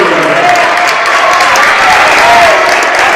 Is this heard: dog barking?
no